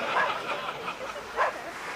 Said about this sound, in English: It's a very big dog.